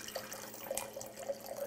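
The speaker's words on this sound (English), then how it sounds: "let me pour this" Hungarian Bikavér red wine pours into a glass with a short trickling, splashing sound and a few soft clinks, close and fairly quiet.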